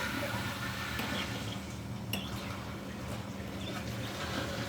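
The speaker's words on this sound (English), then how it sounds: "We are going to turn on the water here." Water flows in steadily after the supply is turned on to a newly installed toilet, producing a constant rushing hiss at moderate distance with no speech.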